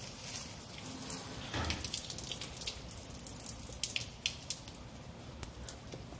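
Water runs steadily into a container while tending bonsai trees, a soft continuous trickle with scattered drips and splashes, moderately faint and heard alone without talk.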